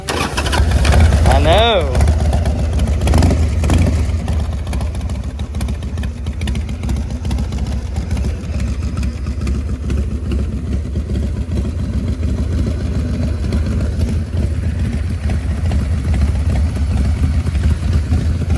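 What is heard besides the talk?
$300 motorcycle engine starting and riding on test drive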